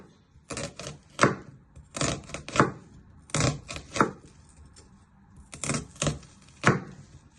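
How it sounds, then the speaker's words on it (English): A knife slices through a peeled onion on a cutting board with crisp, rhythmic chopping taps, arriving in quick clusters of three or four strokes separated by brief pauses, close and clear. "Once you've peeled your onion, you first want to slice it."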